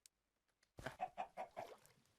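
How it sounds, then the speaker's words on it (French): Minecraft chicken clucking in a video game, a quick rhythmic series of about five or six clucks close by and fairly loud after a brief near-silent start. "Viens, petit poulet, viens."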